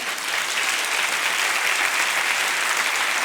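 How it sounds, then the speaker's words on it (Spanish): Loud, sustained applause from a church congregation during a sermon, dense clapping that holds steady for a few seconds with no speech. "Aplauda al Rey de Gloria."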